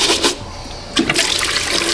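Hot water gushes and splashes steadily down into a drain on a Ford Escape, with a louder surge near the start and another about halfway through.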